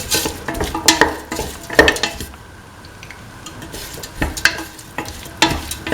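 A spoon stirring beef, green peas and coconut milk stew in a pan, with loud repeated scraping and clinking against the metal over a bubbling sizzle, close up and without talk.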